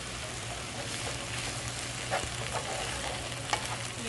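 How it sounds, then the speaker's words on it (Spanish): Poblano pepper strips fry in a little oil in a pan, a steady soft sizzle with faint crackles and a couple of brief clicks, close and quiet with no talking. "Y ya le voy a poner las rajas para que se guisen un poquito."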